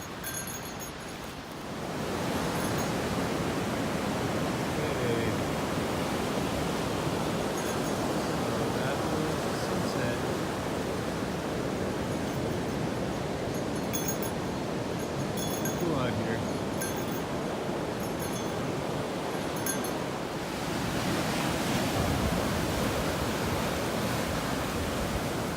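Steady ocean surf washes along Shipwreck Coast in Olympic National Park, a broad continuous roar of waves on the shore that stays loud and unbroken throughout.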